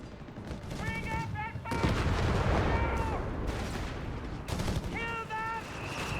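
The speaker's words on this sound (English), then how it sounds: "he proceeds to bombard it with airburst shells" Rapid bursts of gunfire and booming artillery from an airburst shell bombardment in Company of Heroes 3, dense and continuous, with a commentator talking over the battle noise.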